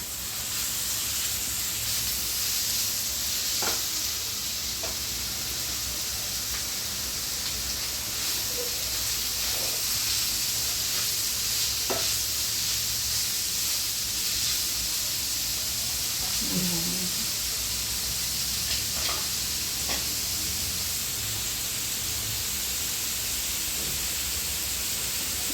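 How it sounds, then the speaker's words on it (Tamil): Capsicum and carrot sautéing in a pan for carrot capsicum rice: a steady, even sizzling hiss fills the whole stretch, dotted with faint clicks and light scraping. "கேப்சிகம் நல்லா வதங்கிடுச்சு. இப்போ கேரட்டையும் சேர்த்து ஆட் பண்ணி வச்சுக்கலாம்."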